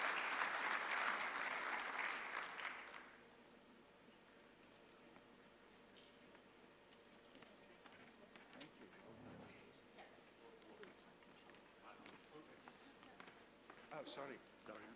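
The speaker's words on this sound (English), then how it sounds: "let's give a last round of applause to the speakers" A conference audience applauds the speakers, a dense burst of clapping that lasts about three seconds and then dies away. Sparse ticks, shuffling and footsteps follow in a quiet room.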